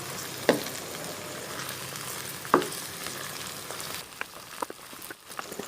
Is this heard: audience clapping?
no